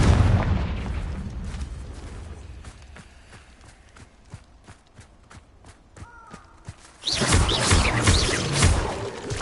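In Hogwarts Legacy, the Confringo blasting spell goes off with a loud, sustained explosive burst in the final seconds, after a stretch of quieter rhythmic thuds and footsteps.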